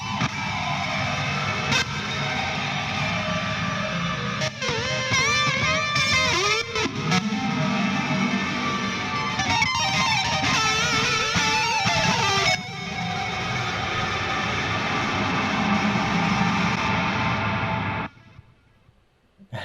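Distorted electric guitar through a Toneforge Jeff Loomis amp plugin with a blood reverb effect, playing chugging riffs and lead lines with heavy wash and echo, ending in a long reverb tail that fades to silence.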